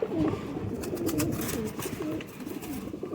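Soft, repeated cooing of Golden Kasoori pigeons nearby, low throaty calls rolling one after another over a steady background hiss.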